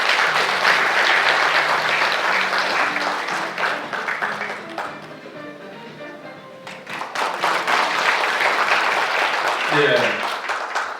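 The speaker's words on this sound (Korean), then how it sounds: "여러분 큰 박수로 모시겠습니다" Audience at a Saemaul international forum opening ceremony in Korea applauding to welcome a provincial governor, sustained loud clapping that dips midway, with talk mixed in.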